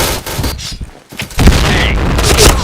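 In a Counter-Strike style shooter game, a grenade goes off: after a short lull, a loud, broad blast bursts in and rumbles on to the end, with gunfire before it.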